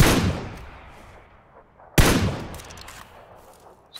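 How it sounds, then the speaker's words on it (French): Two loud gunshot bursts in PUBG, each a sharp crack with a decaying echoing tail, the second arriving about two seconds after the first, with faint extra shots between and no talk. "Je suis tiré dessus"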